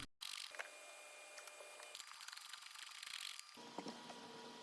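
Ratchet clicks and metallic turning as nuts are unscrewed from a Tesla Model 3/Y tail light fixture, quiet and close with short bursts of mechanism noise, no talking.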